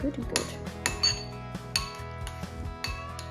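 A spoon stirs pasta salad in a bowl, clinking and scraping against the dish in a steady run of bright, close metallic taps with no talk.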